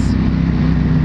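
A 2021 Ducati Panigale V4S engine and exhaust give a deep, steady grumble at close range, a brief continuous low rumble with no talk over it.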